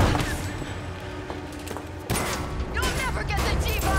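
Gunfire in the Resident Evil 2 Remake video game, bursts of sharp shots amid a noisy, dense game soundtrack with a sudden louder burst partway through.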